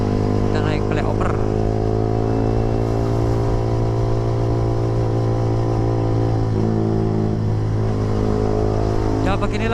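A Yamaha R15 V3 motorcycle rides up a flyover, its engine a steady mid-pitched drone with slight rises in revs, heard continuously along with wind noise.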